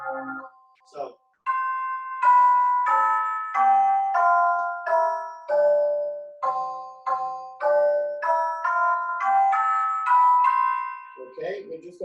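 Synthesized church bell tones are set off by an OptiBeam light-beam instrument in a run of clear ringing strikes with decaying tails, some overlapping, and a short voice near the start and end.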